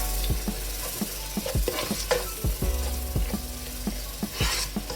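Freshly ground garam masala being mixed into the frying onion base for a Thalassery chicken dum biryani, repeated spoon knocks and scrapes against the pot over a steady sizzle and low hum, close and busy, with no talking.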